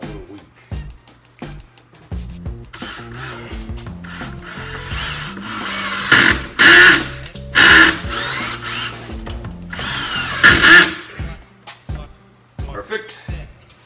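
A Craftsman cordless drill with a weakening battery runs in several short bursts, louder pulses around the middle and end, with a ratcheting, mechanical whir between quieter workshop moments and some talk.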